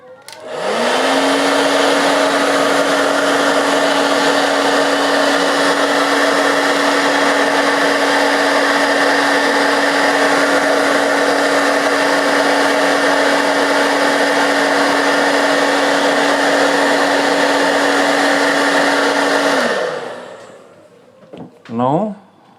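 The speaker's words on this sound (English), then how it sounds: "I am going to apply some heat over here using the heat blower." A heat blower runs steadily for about twenty seconds, a loud continuous whir with a steady hum, while it heats the seal on a JBL Go Bluetooth speaker. It then switches off, followed by a few faint handling knocks.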